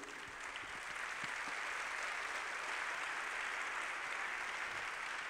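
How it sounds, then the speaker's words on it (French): Steady applause from an audience fills the whole stretch, a dense even patter of many hands clapping with no voices on top. "qu'on applaudisse ceux qui sont dans la salle et qui créent pour les autres"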